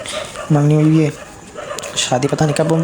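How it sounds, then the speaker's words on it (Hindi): Dogs outside at night bark and whine in two drawn-out bursts, fairly close, while someone talks over them. "अभी मेरे बैकग्राउंड म्यूज़िक में आपको कुत्तों की आवाज़ भी आ रही होगी"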